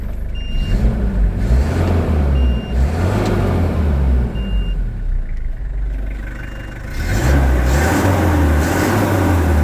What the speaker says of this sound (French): C'est la dashcam qui fait un bip bip qui nous dit de mettre une carte SD dedans.